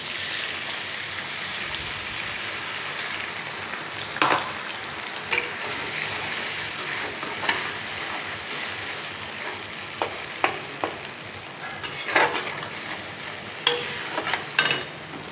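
Ground spice paste fries vigorously in oil for hilsa fish curry, a loud continuous sizzle with intermittent scrapes and clinks of a spatula stirring the pan.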